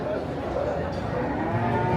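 Cattle moo amid a crowded livestock market, low bellows mixed with the murmur of people chatting nearby.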